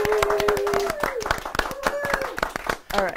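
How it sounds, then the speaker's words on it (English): A class clapping for a kindergarten science fair winner, a quick series of sharp, uneven hand claps close by, with children's voices and a sustained tone running under and between them. "Let's give them a round of applause."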